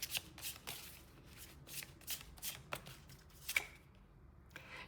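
Tarot cards being shuffled in soft, repeated riffling bursts, close but quiet, with brief gaps between shuffles and no talking.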